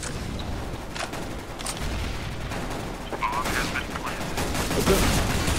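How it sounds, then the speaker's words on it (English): Gunfire in Counter-Strike: Global Offensive on the Mirage map, with scattered shots and bursts sounding fairly close over a steady bed of game noise, and the level rises toward the end. "No, they're shooting me!"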